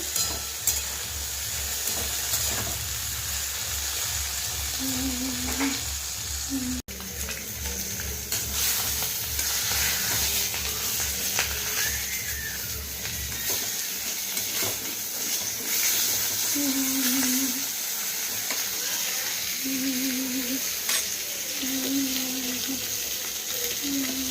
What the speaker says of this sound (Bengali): ভেন্ডিটাও প্রায় ভাজা হয়ে এসছে।